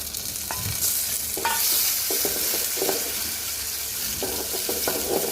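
Shrimp and onions fry in a pan, a steady close sizzle with intermittent scraping and stirring sounds throughout, no voices.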